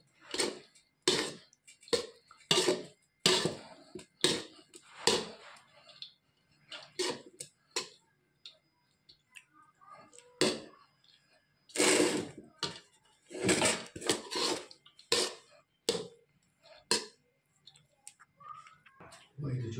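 Biryani is mixed in a pot with repeated close scrapes and clanks of a spoon against metal, arriving in uneven bursts with short pauses between them.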